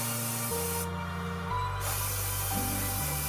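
An airbrush with a 0.4 nozzle at 20 to 30 psi sprays VMS Varnish HD onto a scale model, giving a steady, close hiss with a few short breaks in the flow.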